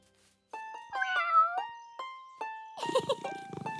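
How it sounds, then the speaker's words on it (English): A cartoon kitten gives a series of high, tonal meows, several short calls and one longer wavering one, close and clear, with a brief rustling burst near the end. "Meet my kitten."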